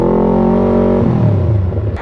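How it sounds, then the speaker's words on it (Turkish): A car doing a burnout revs hard and loud up close, holding a high steady roar for about a second before the pitch drops and breaks into rough, spinning-tire grind. "Bir lastik yakma da size gelsin hadi."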